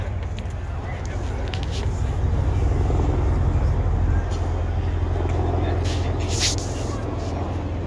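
A helicopter passes over an outdoor minor-league baseball stadium during a Clearwater Threshers versus Tampa Tarpons game. Its low engine rumble stays steady and fairly loud for the whole stretch, with crowd noise and some talk mixed in.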